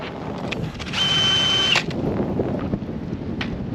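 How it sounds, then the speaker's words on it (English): Ice auger boring a hole through lake ice in Minnesota in winter, a steady motor whine that rises briefly to a high squeal, then a rougher grinding drone under wind noise. "let's drill a hole over there, see what that's like"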